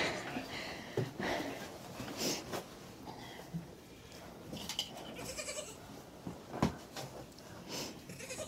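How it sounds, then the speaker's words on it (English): Baby goats bleat on a farm in several scattered, high, wavering cries of varying loudness, some near and some farther off, with rustling and sniffing between calls and no talk. "Sounds like Jason's playing with his goats."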